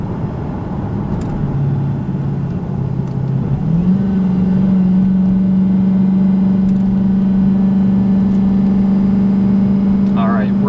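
A 700-horsepower Dodge Hellcat rolls and then accelerates hard with its tires spinning, giving a loud, steady engine drone that rises in pitch and holds, while someone talks over it at the start.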